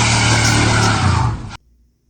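A restored 1972 Chevy C10 Custom truck engine revs loudly and close by for about a second and a half, then cuts off abruptly into near silence.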